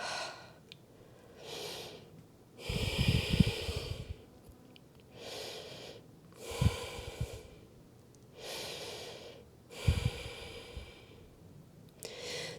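Slow deep breaths during a beginner hatha yoga pose: three long, breathy inhales and exhales in an even cycle, close to the mic. Each one carries a rough low rasp and there are soft sighs between them.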